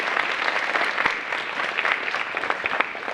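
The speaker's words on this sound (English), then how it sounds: "let's just have another round of applause for Mayor McCormick" Audience applause for Mayor McCormick at an elementary school young writers evening, a dense, steady wash of many hands clapping close by for a few seconds with no talk.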